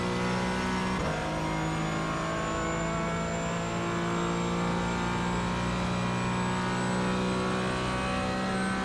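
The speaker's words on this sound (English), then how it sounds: "Full throttle, pedal to the floor." GT4 race car at Monza with the engine held at full throttle, a sustained loud engine drone with layered harmonic whine, a brief thump near the start, and a rising high tone as it pulls, no talking.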